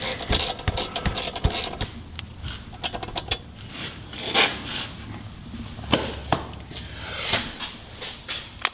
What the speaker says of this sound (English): we're going to tighten down our brake line bracket